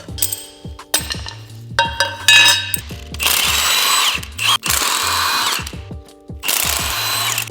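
Power tool bursts loosening a bolt on a wastegate dump tube during transfer case removal: several close, loud whirring runs separated by short pauses, with light metallic clinks in between.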